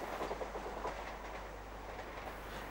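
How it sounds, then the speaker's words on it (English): A Wessex electric unit, one of 24 built in the late 1980s, runs an express through Millbrook station on the Southern region in 1996. It passes close and fast, giving a steady loud rush of wheel and rail noise with a faint clickety-clack. "An express speeds through, formed of another Wessex unit."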